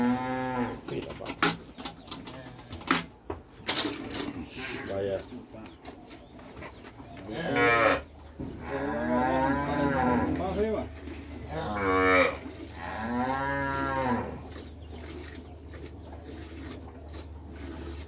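Dairy cows moo in long, drawn-out calls, a few distinct lows from nearby animals at a cattle sale, with pigeons cooing faintly and people talking in the background.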